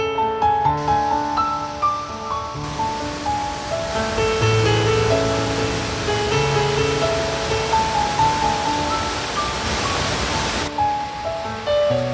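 Waterfalls along a Pyrenees hiking trail give a steady, broad rushing roar that stays loud throughout, with tonal music running over it.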